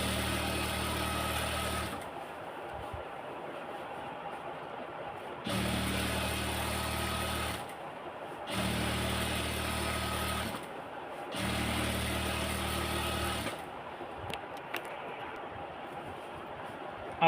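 A sewing machine stitches pajama fabric with elastic, running in steady loud bursts of about two seconds each, separated by brief pauses.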